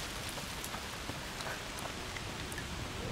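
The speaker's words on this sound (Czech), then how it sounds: "jak tady padají ty kapky deště" Heavy rain in the video game A Plague Tale: Requiem, a dense, constant hiss of falling drops with scattered close patters, steady throughout and fairly quiet.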